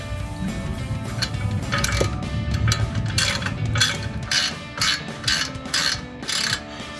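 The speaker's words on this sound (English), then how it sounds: "we're going to use a ball joint tool and go ahead and press it the rest of the way out" Ball joint tool pressing out the front lower ball joint of a 1994-2004 Mustang: a run of sharp, evenly spaced metallic clicks and ratcheting strokes, close and fairly loud over a low mechanical rumble, with no talking.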